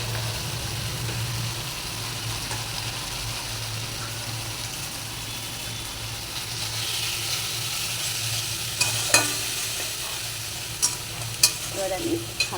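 Soybean curry frying in a pan with Kashmiri chili powder and spices, stirred steadily under a constant sizzle, with a few sharper scraping clicks near the end.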